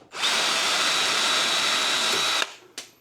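A power drill bores steadily into armor-plated steel with a high continuous whine, then cuts off abruptly as the bit tip snaps, followed by a brief metallic clatter.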